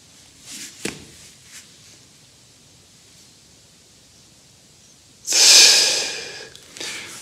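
A single deep breath taken as part of a lung-capacity breathing exercise, a strong rushing breath near the mic lasting about a second and a half after a long quiet stretch, with a few faint breaths and small noises before it.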